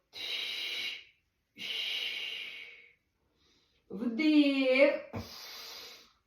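Slow, deliberate breaths during a breathing exercise: several long, airy inhales and exhales, each lasting about a second, heard up close, with a brief voiced sound in between.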